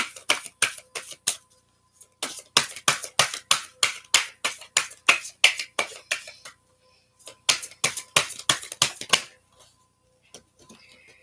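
Tarot cards are shuffled in fast bursts of crisp, close riffling slaps, two long runs split by a short pause, loud and alone.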